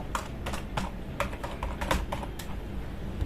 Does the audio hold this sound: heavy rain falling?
no